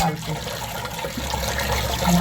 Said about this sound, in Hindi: अब हम शुरू करते हैं पानी डालना